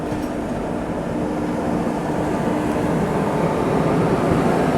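Anand Vihar Jansadharan Express standing at a busy junction railway station, a steady low rumble and hum of the train and platform filling the air evenly throughout, with no voices.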